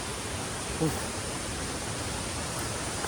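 Steady broadband rush of the Mukti Hole waterfall in Uttara Kannada, a constant roar heard from a distance along a forest trail, with a faint brief voice-like sound early on.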